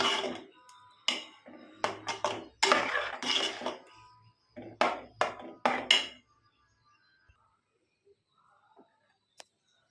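A spoon scrapes and clatters around a pot of cauliflower and potato kurma, a burst of quick, close metallic strokes for several seconds that then stops, leaving near silence with one faint tap.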